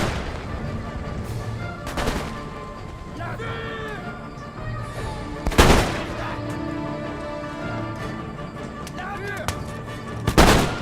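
Musket volleys in an Empire Total War battle: several sharp, loud bursts of massed gunfire spread across the clip, with battlefield ambience and murmured voices between shots.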